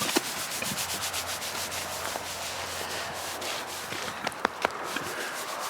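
Someone scratches a pig's hide with a steady, close rubbing and scraping, and a few sharper scrapes come near the end.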